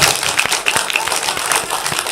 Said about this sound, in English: Everybody clap for the second.